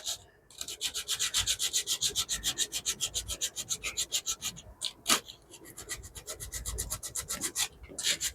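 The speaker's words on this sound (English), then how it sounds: "Obviously it takes the plastic off with it as well, and a finer sandpaper would definitely be better." Sandpaper rubs back and forth across a plastic plant label in quick, steady scratching strokes, close and fairly quiet, with a brief pause near the middle before the rasping resumes.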